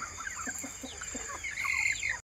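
Native country chickens, nati koli, cluck in short repeated calls close by, over a steady high insect-like hum, with a louder bird call near the end.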